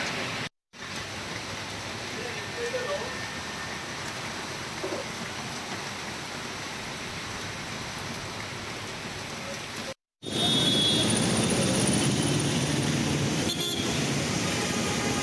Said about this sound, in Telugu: ఒక్కసారిగా వాన పడింది